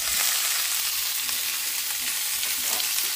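Chicken pieces hiss and sputter in a hot pan, a loud, dense, continuous sizzle heard close up with small crackles throughout and no voices.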